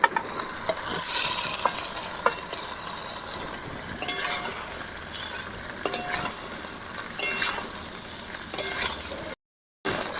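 Chopped tomato, potato and drumstick pieces go into a hot pan for Bengali shukto, with a soft sizzle under scraping stirs and a few sharp clinks of a spoon against the pan.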